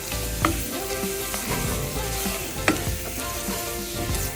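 Flour cooking in a pan for béchamel sauce, a continuous close sizzle with occasional scraping stir sounds and a couple of sharper clicks, no voices.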